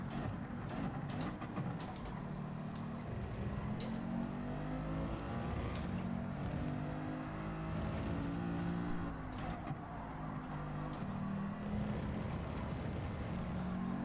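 A McLaren race car engine in Gran Turismo 7 drones steadily, its pitch rising and falling through gear changes and revs, held at a fairly quiet, even level with faint mechanical clicks on top.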